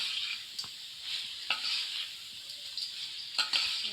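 Quails cooking in masala in a pan sizzle with a steady hiss, broken by occasional scrapes and clinks of a spoon stirring, close and fairly loud.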